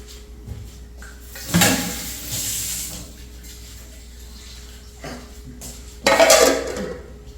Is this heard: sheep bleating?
no